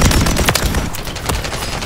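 Rapid automatic gunfire in a shooter video game, loud bursts of close, rattling shots packed tightly together with no pauses and no talking.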